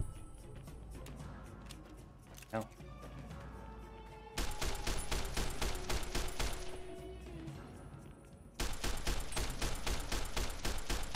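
Gunfire from the video game Fallout: New California rattles in quick bursts of rapid shots, faint at first and then louder, continuous volleys without talk.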